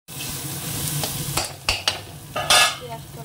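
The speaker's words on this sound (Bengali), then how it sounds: "পেঁয়াজটা ভাজা হয়ে গেছে" Chopped onion frying with cumin seeds, a dried red chilli and salt, sizzling steadily in a pan while a spoon stirs and scrapes in a few distinct strokes, close and fairly loud, with no talking.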